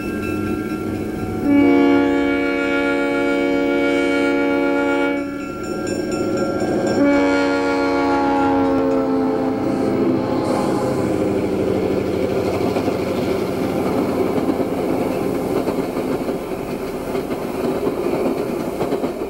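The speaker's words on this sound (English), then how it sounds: "train number 155, Grand Trunks, the International, arrives from Toronto" A Canadian National passenger train, Grand Trunk's International, train number 155 from Toronto, sounds two long loud horn blasts as it pulls in, followed by steady rumbling and wheel clatter on the rails.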